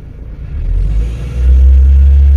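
A car engine rises in a deep rumbling rev as the accelerator of a retrofit hand control is pressed, growing louder and holding near the end.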